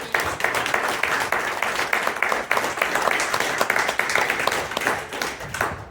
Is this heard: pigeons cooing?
no